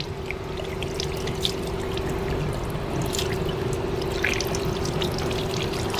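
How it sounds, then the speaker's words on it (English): Ozonated water draining from an automatic spout into a jug at an outdoor DIY hand-washing station, a steady, close pouring trickle with a faint constant hum beneath, unbroken throughout. "And it seems it just drains to the other jug without any problem."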